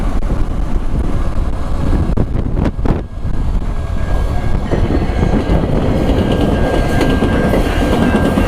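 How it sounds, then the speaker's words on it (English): A passenger train rumbles past close by, a loud continuous roar with rattling wheels and wind buffeting the microphone. "Oh, cool. That's a passenger train."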